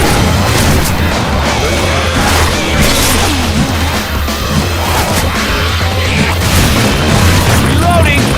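Explosions and gunfire aimed at a tank in a combat video game, a dense, continuous loud roar of booms and blasts with shouted voices over the battle noise.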